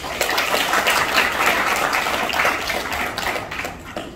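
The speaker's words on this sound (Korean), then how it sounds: "우리 조 당선인한테 박수를 한번 주십시오." A crowd at a Korean memorial and reconciliation event applauds an elected official, with steady, dense clapping sustained throughout and no talk over it.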